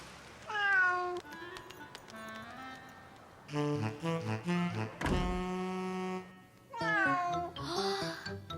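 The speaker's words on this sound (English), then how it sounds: "It was Sarah's cat, Ollie." A cartoon cat meows repeatedly in several separate bursts, clear and close, with short quiet gaps between the calls and no talking.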